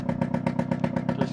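A 1994 Vespa PK50 automatic scooter with a faulty exhaust idles close by, its small two-stroke engine chugging in a fast, steady, rattling pulse with no voices over it.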